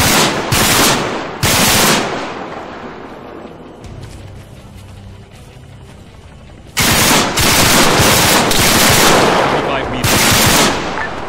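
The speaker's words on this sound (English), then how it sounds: "I hear everyone's guns." Bursts of automatic gunfire from an ArmA 3 military shooter, loud rattling volleys at the start and again in the second half, with a quieter stretch of distant shots between them.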